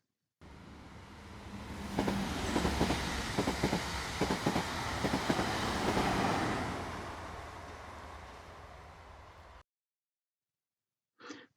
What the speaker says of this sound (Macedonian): воз